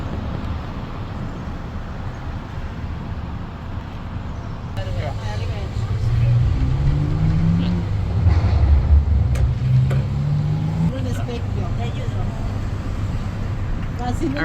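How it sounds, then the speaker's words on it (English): A hop-on hop-off tour bus rolls through Valencia, its engine droning low with rising gear pitches and steady road noise, heard from a seat on board. "I'm on the hop-on, hop-off bus in Valencia"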